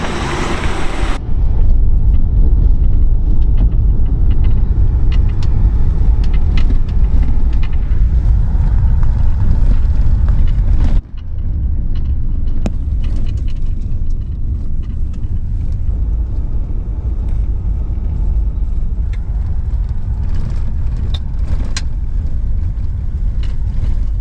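A vehicle drives through an active forest fire area in Arizona, with a continuous loud engine and road rumble heard from inside. A brief dip comes partway through, then the steady drone returns.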